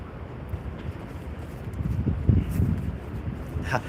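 Steady rumbling wind buffeting the microphone on the deck of the cruise ship ms Rotterdam sailing from Amsterdam, gusting louder midway, with faint scattered knocks in the background.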